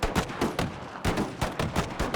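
Gatling guns fire in an American Civil War battle game at First Battle of Bull Run, in rapid cracking bursts with short gaps between them, loud and close, with no voices.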